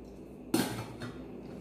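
A cooking pot with its lids, ordered online, gets handled in a single sharp metallic clank followed by a softer knock, close up in a quiet room.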